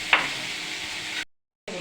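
Onions frying in a pan with turmeric just added, a loud, close, steady sizzle with a stirring scrape near the start, cutting out briefly before resuming.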